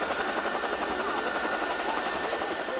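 A military helicopter flies overhead delivering aid supplies to a remote village, its rotor beating in a steady, dense chop that holds evenly loud throughout without a break.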